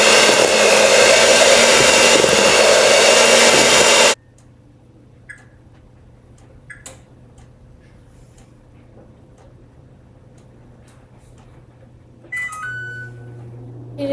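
An electric mixer runs loud and steady through banana bread batter for about four seconds, then cuts off, leaving a quiet room with faint clicks.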